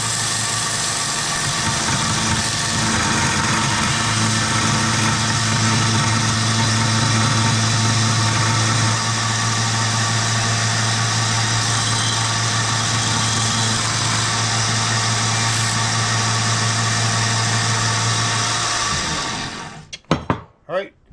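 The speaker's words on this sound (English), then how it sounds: "I'm just letting the belt sander do it on its own." A belt sander grinds steadily on a cheap hardware-store splitting hatchet head, a continuous loud motor whine with a strong low hum lasting nearly twenty seconds before cutting off abruptly, followed by a few brief knocks.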